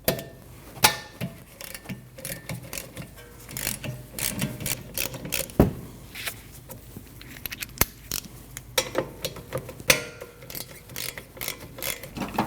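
Small metal tool clicks and ratchets while 7mm Allen-head caliper pins are loosened on a rear brake of a 2013-2019 Ford Escape, with scattered close, sharp mechanical taps and rubs and no talking.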